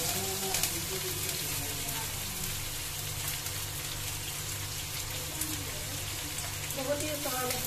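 Onion dropped into hot oil crackles and sizzles in a steady, dense hiss with a few louder spits, close to the pan and fairly loud.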